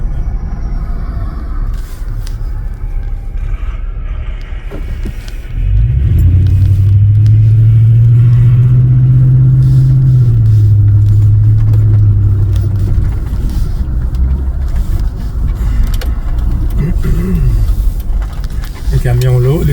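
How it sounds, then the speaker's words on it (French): Heavy snowplow trucks pushing snow and salting a road during a snowstorm pass with a loud, swelling engine drone and rumble that builds midway and then fades, with voices talking over parts of it. "Les camions lourds qui poussent la neige, ils mettent du sel en même temps."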